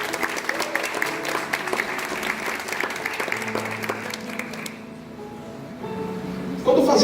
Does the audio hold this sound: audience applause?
yes